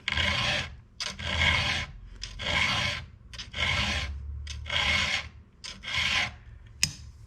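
A hand file strokes across a chainsaw chain tooth during sharpening, producing six or seven loud, evenly paced rasping passes with brief pauses between them, close up and with no talking.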